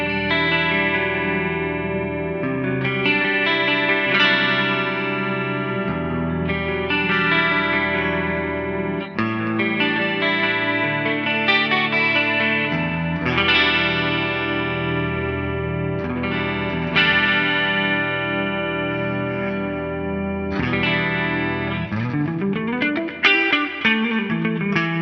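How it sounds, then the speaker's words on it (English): Clean electric guitar through a NUX MG-30 multi-effects unit set for an 80s sound, with compressor, gate, EQ, amp, modulation, delay and reverb: shimmering chorused chords ring with washy echoes, then a strummed run near the end. "I've got a compressor, a gate, EQ, an amp, modulation, delay, reverb. Going for an 80s clean vibe here."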